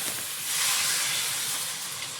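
Water poured into a hot pan of frying pumpkin erupts into a loud, dense, continuous hiss of steam and sizzle that holds steady throughout, close up.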